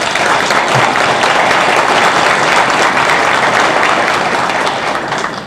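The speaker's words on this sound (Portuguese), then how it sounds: "Pedir uma salva de palmas." A large audience at a tax law seminar bursts into steady, dense applause that stays loud and even throughout, tapering only slightly at the very end.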